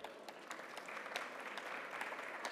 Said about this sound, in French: Vous pouvez déjà l'applaudir,